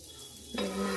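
Butter on a hot tawa for shallow-frying sweet corn, with quiet background, then a sudden burst of sizzling as it hits the pan, continuing strongly to the end.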